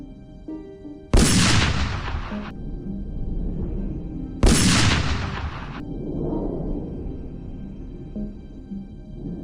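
Two loud, sharp gunshots about three seconds apart from hunters firing at wild hogs, each with a long rumbling echo trailing off, with no talking.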